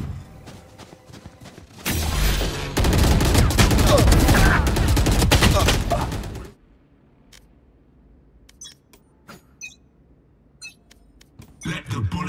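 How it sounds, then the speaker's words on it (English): Dense sustained automatic gunfire in a video game running as a PC benchmark, a loud roaring volley of several seconds that cuts off abruptly, followed by quiet ambience with a few faint distant clicks and thuds. "Let the bullets fly."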